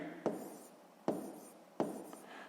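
A pen writes on paper during a sixth-grade math exercise, making three quiet scratching strokes about a second apart. It is close and faint, with no talking.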